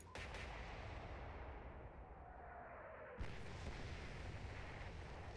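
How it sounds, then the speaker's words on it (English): Detonations from a naval battle video game set in the Battle of the Atlantic: a continuous deep, rumbling roar of explosions, with a sharper blast hitting partway through, loud and dense, with no talk. "More detonations."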